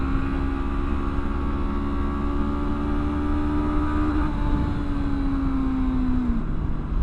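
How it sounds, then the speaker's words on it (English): A Honda NX500 adventure motorcycle's engine revs hard toward redline, a steady rising tone that climbs, dips with a gear change and pulls again, loud and close throughout with no talk. "even at redline, the motor has just a tiny bit of buzziness"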